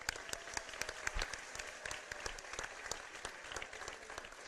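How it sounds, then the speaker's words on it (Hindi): A seated audience at a Jain religious gathering applauds steadily, a dense patter of many hands clapping at moderate distance, continuous throughout without a pause. "सब तालियां बजा दे इसके लिए।"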